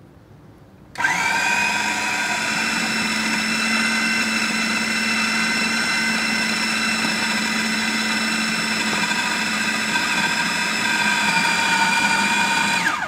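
A food processor whirs steadily at high speed while 125 grams of cubed butter goes in through the feeder tube for quiche pastry, starting abruptly after a second of quiet and running loud and even to the end.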